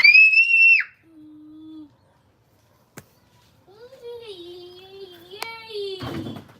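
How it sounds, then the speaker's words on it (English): A child screams in sharp, high bursts, one loud at the start and another rising toward the end. Someone speaks in between, and a brief click sounds in the middle. "why are you screaming?"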